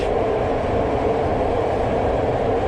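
Steady loud rumble and hiss from inside a Hohhot Metro subway car while riding, with continuous broadband roar and no pauses.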